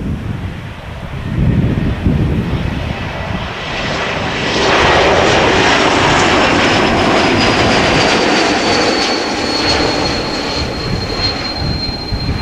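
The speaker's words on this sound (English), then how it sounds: "Pushback of one of the China Southern 777" A China Southern Boeing 777 during pushback at an airport: loud, continuous jet engine roar with a rising high whine that thickens midway, buffeted by wind on the microphone, with no voices.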